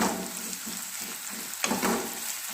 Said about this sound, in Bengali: পেঁয়াজ দিয়ে দিয়েছি, দিয়ে এবার এটাকে আমি নাড়ছি